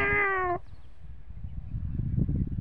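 A human voice imitates a cat with a single drawn-out meow lasting about half a second, followed by a low, quiet background murmur.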